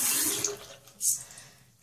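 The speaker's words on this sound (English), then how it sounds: "I'm just gonna run them under cold water here." A bathroom sink tap runs cold water over makeup sponges, a close hissing splash that swells and fades in short bursts.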